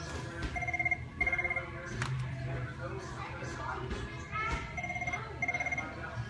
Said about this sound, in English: so I'm at Walmart and the phone's ringing